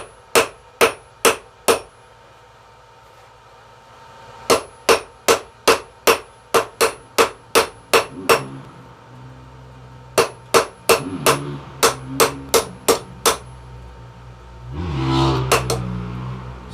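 Sharp metal-on-metal hammer strikes from tapering steel for a grappling hook at a forge, arriving in rapid rhythmic bursts of blows with short pauses, ending in a rushing hiss of heat or passing road traffic.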